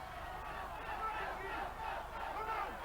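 A strongman shouts mid-lift at the 1997 World's Strongest Man final in Primm Valley, Nevada, with the strained yells blending into a roaring arena crowd under commentary.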